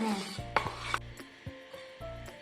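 Grated coconut roasting in a pan for elephant foot yam chutney, stirred with scraping and knocking strokes against the metal, with a few louder clatters and a soft sizzle underneath, close by.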